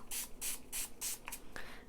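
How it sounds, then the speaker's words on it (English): Four quick hissing spritzes of water from a spray bottle onto watercolor paper in a steady rhythm, followed by a couple of shorter bursts and a faint tap. "And then we're just going to be taking some water, spraying it."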